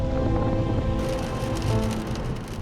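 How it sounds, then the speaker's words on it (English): Rain pelting a motorcycle helmet visor while riding near Kodaikanal, a dense continuous patter of drops over steady engine and wind rumble, close and fairly loud, with a sharper brighter burst of impacts after the first second. "it's hard to drive with all the raindrops battering my visor"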